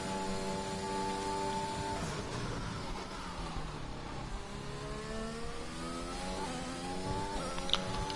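A Ferrari race car in a racing video game with no assists, its engine droning steadily and shifting pitch as it revs up through the gears, loud and continuous with no talking.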